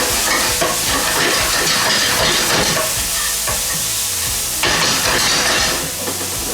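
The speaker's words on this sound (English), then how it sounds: "It's got sesame seed oil, it's got ginger, it's got garlic, all just frying up nice and translucent." Onion, ginger and garlic fry in sesame oil in a home kitchen, a loud, continuous close sizzle with crackling spatter and occasional bursts of stirring, no talk over it.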